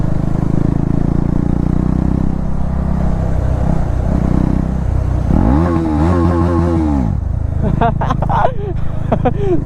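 A KTM Duke 390 motorcycle engine rumbles at idle, then revs up and down in a couple of rising and falling bursts, heard up close while people talk over it.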